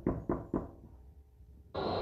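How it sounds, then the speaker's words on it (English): Three firm knocks on a door in a radio drama, evenly spaced and close, followed by a short quiet pause and then a steady broadband hiss or room noise. "one of my neighbor knocks on the door and gives me"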